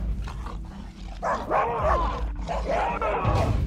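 Large dogs in a suburban neighbourhood bark and growl in a couple of short bursts, fairly close, with muffled background noise between the barks.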